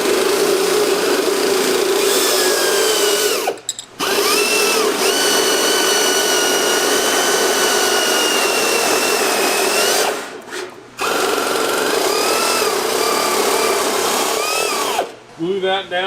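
A power tool cuts a sheet metal patch for an abandoned Pontiac, whining loudly and continuously with a metallic edge, stopping briefly three times before starting up again.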